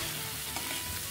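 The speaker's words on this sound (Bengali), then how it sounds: "এখন এখানে পরিমাণ মতো নুন আর হলুদ গুঁড়ো দিয়ে ভালো করে এটাকে এখন আমি কম আঁচে ভেজে নেব।" Potatoes and yardlong beans frying on low heat in a pan, a soft steady sizzle with light stirring scrapes, brief and unbroken, no speech.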